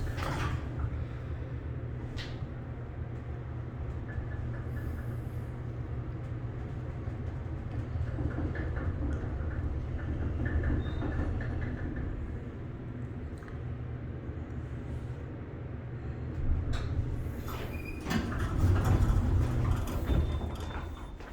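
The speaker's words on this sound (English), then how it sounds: "Watch these doors close" Large Montgomery elevator doors in the Psychology Building at Arizona State University slide shut with a long mechanical rumble and creaks, ending in a heavier thud near the end.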